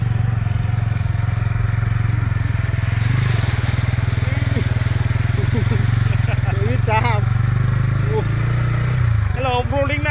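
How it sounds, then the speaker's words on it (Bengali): Motorbike engine running steadily and loudly close by as the rider crosses a shallow canal through water, a low continuous drone that cuts off near the end, with birds chirping faintly in the background. "এই খালটা পার হচ্ছি বাইকে"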